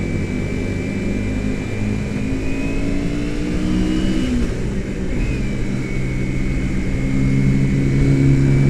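A motorcycle with a racing exhaust drones steadily nearby, its engine note rising and falling slightly, with broad road and traffic noise around it and no talk over it.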